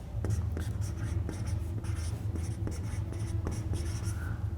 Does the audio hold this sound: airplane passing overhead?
no